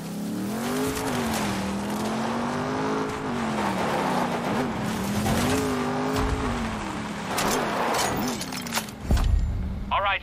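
A car driving in the video game Far Cry New Dawn, its engine droning steadily with rising and falling pitch as it revs, loud and close, with a few brief clatters near the end.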